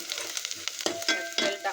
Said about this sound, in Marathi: त्यात तेल टाकून कांदा परतून घेतला आहे.